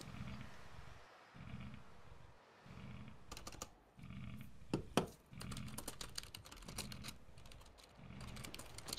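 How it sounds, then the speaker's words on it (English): Loud computer keyboard typing clatters in bursts of rapid keystrokes, close and dry, with brief pauses between runs and a low growling rumble underneath. "your typing is incredibly loud, Yvonne"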